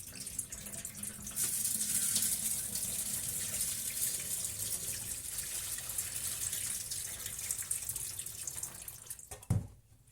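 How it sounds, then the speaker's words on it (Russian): Tap water runs steadily into a sink while buckwheat, barley and rye grains are rinsed, a continuous close splashing hiss with a brief louder knock near the end. "Промываю от мусора и от тех зерен, которые всплывают на поверхность."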